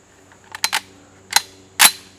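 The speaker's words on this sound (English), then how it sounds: "Got 10 rounds. Shoot a few fast, maybe try to hit something." Auto Ordnance M1 Carbine fired outdoors: a handful of sharp, cracking shots in a quick uneven burst. A tight double comes first, then two more spaced apart, with no talk between them.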